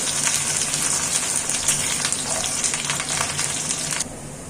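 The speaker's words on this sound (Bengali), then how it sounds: "এই পেঁয়াজটাকে আমি খুব ভালো করে ভেজে নেব।" Loud, continuous sizzling of chopped onion frying in hot oil, with a sudden drop in the hiss near the end.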